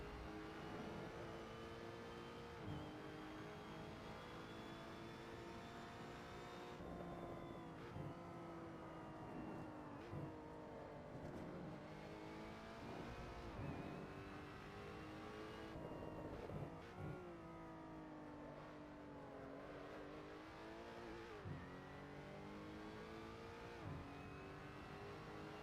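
A race car laps a track at the limit in the racing game Assetto Corsa, its engine droning steadily with rising and falling revs through repeated shifts and corners, fairly faint throughout.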